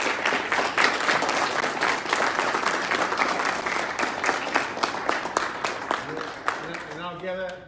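Applause from an audience at an Army JROTC military awards ceremony fills the room, many hands clapping steadily, then fading as a voice begins speaking near the end.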